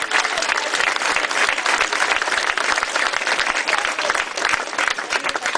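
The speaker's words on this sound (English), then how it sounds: "Give yourself a round of applause." Hundreds of campaign volunteers at a political rally applaud loudly and continuously, dense clapping mixed with crowd noise filling the whole stretch.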